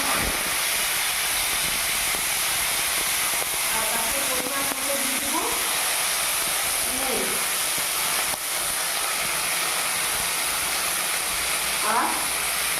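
Cut bitter gourd frying in hot oil in a wok, a dense steady hiss and sizzle continuing throughout, with a few faint clinks and handling sounds.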